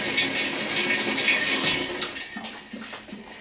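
Cold water rushes steadily into a washing machine, a loud hiss that begins to weaken and sputter toward the end.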